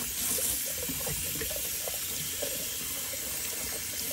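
Running tap water rinses a Semogue 830 boar-bristle shaving brush at a sink, a steady close splashing hiss with no talk.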